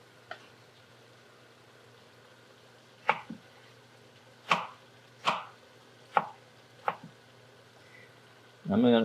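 A knife chops tomatoes on a board for a beef stew braised in red wine. Six or seven separate, sharp chops come at irregular intervals over a quiet background, with a louder clatter at the end.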